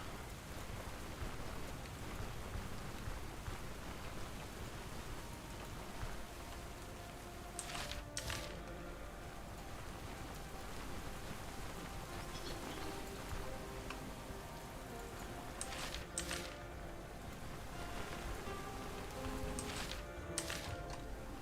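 Video game rain hisses steadily across the whole stretch, with a few brief brighter spatters and ticks breaking through now and then; no talking.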